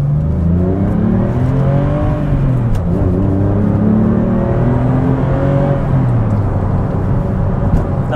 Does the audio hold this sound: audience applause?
no